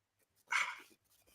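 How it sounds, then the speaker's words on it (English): Dogs in a home bark in one short, fairly loud burst, a quick cluster of yaps that ends abruptly, with quiet room sound before and after. "I was just telling the dogs to hush up"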